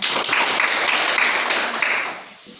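Dense applause from a classroom audience after a group presentation, many hands clapping together in a full, close wash that tapers off toward the end.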